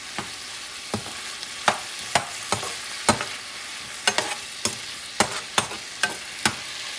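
Tomatoes and scrambled eggs being stir-fried in a wok, with a steady sizzle broken by a dozen or so sharp, close spatula scrapes and clacks at an irregular pace, no voices.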